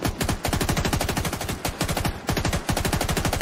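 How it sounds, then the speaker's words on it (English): Rapid automatic gunfire from The Division 2 plays in close, loud bursts with brief gaps between volleys, and no voices over it. "Why am I hearing shooting on your video?"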